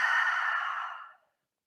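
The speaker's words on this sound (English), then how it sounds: "Breathing out" A single long, breathy exhale close to the mic, steady for about a second before fading out into silence.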